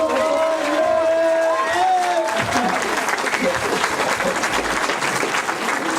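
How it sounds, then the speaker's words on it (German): An audience at a halal comedy show in Darmstadt breaks into sustained applause with cheering, a dense wash of clapping filling the room while a voice calls out over it at first. "Nochmal einen kräftigen Applaus."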